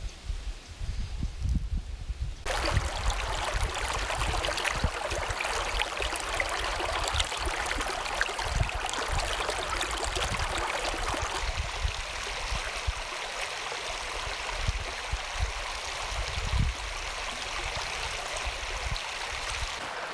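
Creek water rushes steadily over rocks in a desert canyon gulch, a loud, continuous wash that holds constant throughout; no one speaks.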